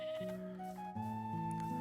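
Sheep in Minecraft bleat in a short, nasal run of wavering calls, steady and fairly loud with no talking.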